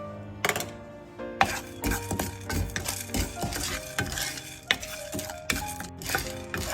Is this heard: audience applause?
no